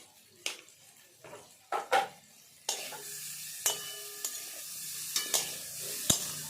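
A spoon scraping and stirring coriander and a spice mixture into an amla pickle in a pan, with repeated clinks and scrapes over a soft sizzle at close range.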